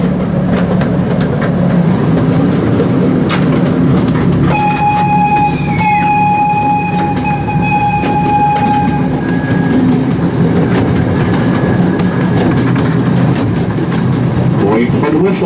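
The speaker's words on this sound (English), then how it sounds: "we just got off the miniature train ride" Miniature ride-on train at a transportation museum rumbling steadily along its rails with a constant clattering drone, a sustained whistle tone sounding partway through, close and loud.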